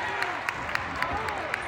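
A crowd at a Guilford College basketball game roars and cheers continuously after a game-winning layup against Christopher Newport, with scattered claps and whistles over a dense, loud wash of noise.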